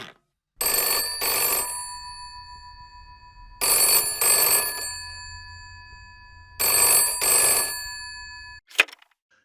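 Old-style telephone bell ringing on an outgoing call, three long double bursts of bright metallic trilling separated by pauses, loud and close, ending with a short click as the line connects.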